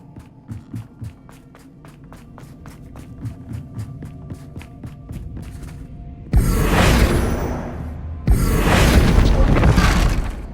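Confringo blasting spell exploding in the Hogwarts Legacy video game: after a stretch of rhythmic ticking ambience, two loud broadband bursts hit at about six and eight seconds, each a roaring boom with a sustained crackling tail.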